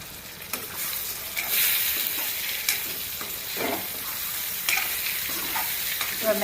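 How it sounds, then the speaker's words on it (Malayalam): Cubed potatoes for a masala frying in a pan with tomatoes, a continuous hiss of sizzling oil broken by repeated scraping stirs of a spatula, close and fairly quiet, no talk. "ഒന്ന് ഇളക്കി വെച്ച് ഇത് നമ്മളൊരു 2-3 മിനിറ്റ് ഒന്ന് വേവിച്ചെടുക്കണം."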